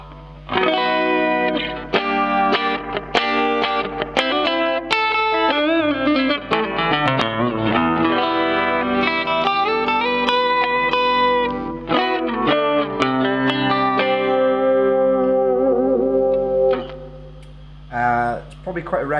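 An electric guitar runs through a Gallien Krueger 250ML amp with chorus added, shimmering, wavering clean notes and chord runs played continuously for a long passage, ending with a few sparse plucks.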